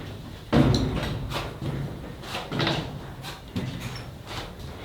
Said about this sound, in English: And as I walk, this wood just creaks.